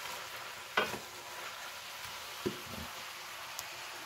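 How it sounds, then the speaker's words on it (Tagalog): Vegetables stir-frying in a pan give a faint, steady sizzle, with a couple of brief utensil clicks from stirring. "Haluin po natin. Hanggang sa maluto siya."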